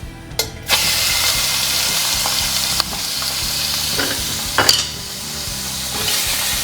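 Oysters fry in hazelnut oil for an oyster omelette, giving a loud, steady sizzle and crackle. It is punctuated by several sharp spatula scrapes and clatters against the pan.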